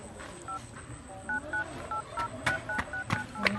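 Phone keypad tones as a number is dialed: about a dozen short, clear beeps in an uneven rhythm, some spaced apart and some in quick runs, over a low background hum with no talking.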